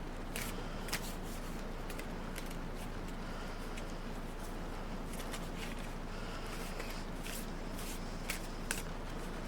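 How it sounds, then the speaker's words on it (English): Tarot cards shuffled by hand in a steady, continuous riffling patter with occasional sharper snaps, fairly close and alone without talk. "we're going to give these a little shuffle."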